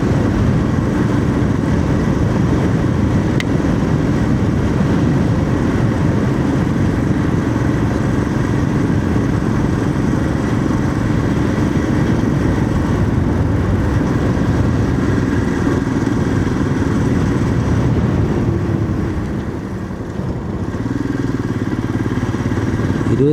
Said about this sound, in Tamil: இருபத்தி 3 நிமிஷமாக ஓட்டிகிட்ருக்கேன் வண்டி.